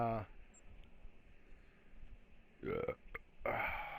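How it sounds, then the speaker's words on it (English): A man belches close to the microphone: a gurgling burp followed by a longer, drawn-out one, with a low steady hum between them. "Gonna start burping shit up now."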